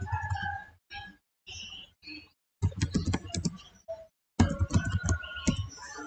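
Close computer keyboard typing with short bursts of key clicks and a Ctrl+F search shortcut, irregular rhythm with brief pauses between flurries.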